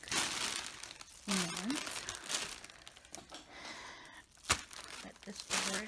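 A plastic bag crinkling and rustling as it is pulled over a freshly colored wig, in short, close, irregular bursts, while someone talks softly between the crinkles.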